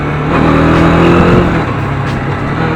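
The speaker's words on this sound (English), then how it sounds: "When you sit on the bike, you give a throttle. This is how the bike speaks, man." A Bajaj Dominar 400 motorcycle engine revs hard on the throttle, close and loud, with a steady deep drone that swells and eases slightly, no talking over it.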